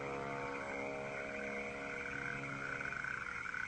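Dense chorus of frogs and toads croaking continuously, a steady layered trill with no voices, loud and close throughout.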